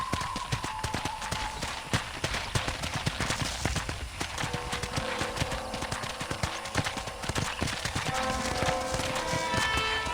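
Horse hooves clip-clop in a rhythmic, continuous trot as a rider travels in the video game Red Dead Redemption on PC, close and clear over faint outdoor ambience.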